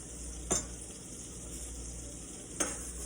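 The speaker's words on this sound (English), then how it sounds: "making sure that we continue to baste the steak" Top sirloin steak sizzles steadily in a pan as it is basted, a constant close hiss with two sharp spoon clinks against the pan.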